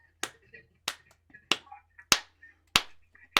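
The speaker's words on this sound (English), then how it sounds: "We're going to clap a rhythm." Six sharp, evenly spaced hand claps beating out a rhythm for young students, crisp and close with short silences between, and faint voice fragments in the gaps.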